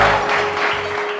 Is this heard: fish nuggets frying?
no